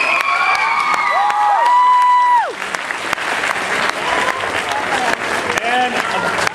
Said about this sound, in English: And a bigger round of applause for Mark Powers, the writer of Rest.